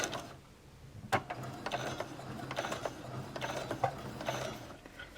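A sewing machine stitching along the edge of a felt handle on a carrying case, a steady close mechanical whirring and clicking with a few louder ticks, moderately quiet and without speech.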